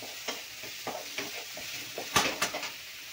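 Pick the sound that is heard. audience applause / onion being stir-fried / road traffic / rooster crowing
onion being stir-fried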